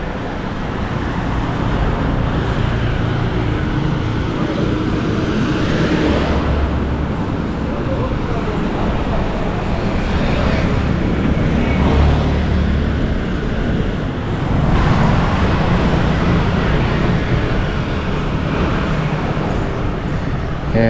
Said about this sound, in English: And you can see the traffic is always a little bit busy between these two areas.